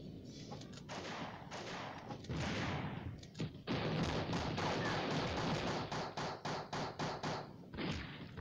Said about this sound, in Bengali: আমি দেখি ছোট বন্দুক দিয়ে ড্যামেজ দিলাম